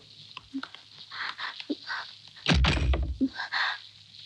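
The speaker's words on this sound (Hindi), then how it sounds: "आपने दरवाजा क्यों बंद कर दिया?" A door is pushed shut indoors with a single solid thunk, followed by brief rattling and softer knocks as it settles, with quiet shuffling before it and no talking.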